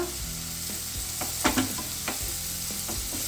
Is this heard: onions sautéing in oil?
yes